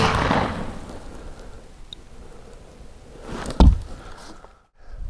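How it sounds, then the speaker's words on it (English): A single loud shotgun blast from Remington Nitro Mag No. 4 shot, fired at 35 yards through a Carlson Longbeard XR choke, cracks out over a rushing outdoor background of wind-like noise. "So let's see what the Remington Nitro Mag number 4 does at 35 yards through the Carlson Longbeard"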